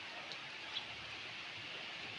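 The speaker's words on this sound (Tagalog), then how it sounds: "Malakas ang ulan sa bukid, oh." Steady heavy rain falling on rice fields, a dense wash of falling water, fairly faint and continuous with no voices.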